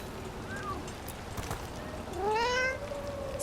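A cat in the Dragon Age: The Veilguard video game gives a rising meow near the end, loud and close over steady game ambience, with a fainter short mew a couple of seconds earlier.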